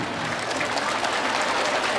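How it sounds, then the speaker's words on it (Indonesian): A steady wash of clapping from a crowd fills the room, even and sustained throughout. "Tepuk tangan untuk Bapak Bupati kita."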